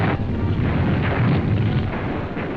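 Wartime artillery fire and exploding shells from 1944 form a dense, continuous roar of heavy booms and rumbling blasts, loud and unbroken throughout.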